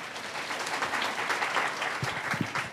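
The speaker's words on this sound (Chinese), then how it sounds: "先俾啲掌声你哋先吓" A room of students bursts into sustained applause at a campus media talk, broad and even clapping filling the space, with a low murmur or brief voice creeping in toward the end.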